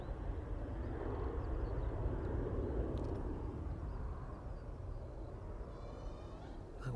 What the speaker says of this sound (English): Very shallow climb out there of runway 27 this evening.